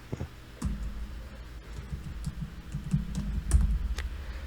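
Keys on a computer keyboard, including a Shift and Enter press, give a short run of crisp close clicks and taps in an otherwise quiet room.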